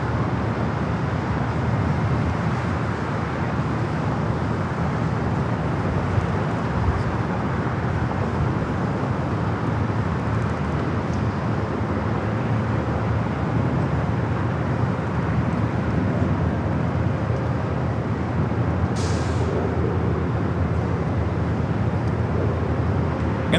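A Boeing 777-200ER airliner arriving from London Heathrow at San Diego airport, its steady broadband engine roar holding constant throughout at moderate distance, with no voices.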